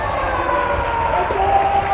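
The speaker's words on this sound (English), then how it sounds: "The crowd is going wild. The crowd is going absolutely wild." A packed crowd at a high school basketball game roars in a steady, continuous wash of cheering and applause, loud and sustained throughout.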